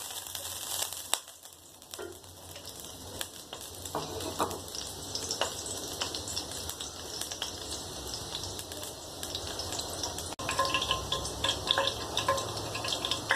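Two spoonfuls of ghee sizzle and crackle steadily in a hot pan while zarda is being cooked, a continuous close frying hiss with scattered pops and a few clinks from a utensil.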